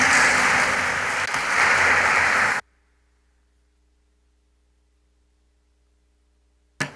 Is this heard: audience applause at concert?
yes